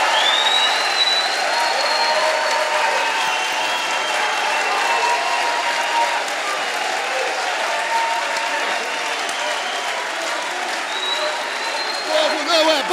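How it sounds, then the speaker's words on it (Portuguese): A large crowd at a rally of jurists and intellectuals in defence of democracy breaks into long, dense applause that continues steadily throughout, with scattered cheers and a voice briefly audible in the mix. "eu queria pedir uma salva de palmas para o pessoal que está ocupando a Rede Globo no Rio de Janeiro"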